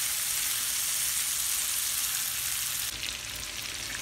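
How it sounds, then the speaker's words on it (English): Smoked sausage with green, red and yellow bell peppers and onions on a grill, giving a steady, even sizzle throughout that is moderately loud, with a slight change in texture near the end. "Some bell peppers. I use the green, the red, and the yellow. And some onions. And I am going to grill them first."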